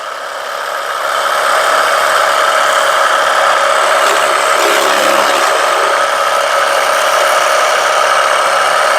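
A pressure washer roars loudly and steadily as it sprays mud off vehicle wheels, its harsh spray and motor hum holding constant with no pauses or voices.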